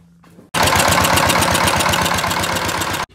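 A farm engine cranks and catches, then runs at a steady, loud, rapidly pulsing beat for about two and a half seconds before cutting off abruptly, with only faint background beforehand.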